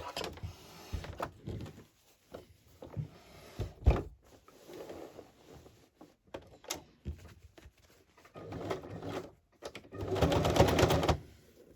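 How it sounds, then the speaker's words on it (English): Sewing machine stitching pockets onto a vintage lace journal cover, running in short intermittent bursts with pauses and handling clicks, ending in a longer steady stitching run nearby. "I back stitch there because you don't want it to come undone"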